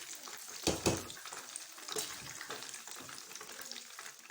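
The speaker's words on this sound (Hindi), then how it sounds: "बहुत अच्छे से फ्राई हो रहा है। बस इसे मैं निकालती जा रही हूँ।" Chicken leg pieces deep frying in hot oil, giving a steady crackling sizzle with a few louder stirring bursts close by.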